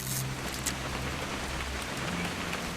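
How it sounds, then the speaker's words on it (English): Steady rainfall in the video game What Remains of Edith Finch patters on surfaces as a soft, continuous hiss of drops, quiet and unbroken, with no speech. "It's gonna rain the whole weekend, isn't it?"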